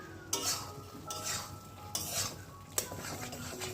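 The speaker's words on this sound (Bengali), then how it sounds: "এদিকে আবার হচ্ছে লাউ ঘন্ট মুগ ডাল দিয়ে" A bottle gourd and mung dal curry cooked with ghee is stirred in a pan, with three or four loud scraping sweeps over a steady sizzle. No one speaks.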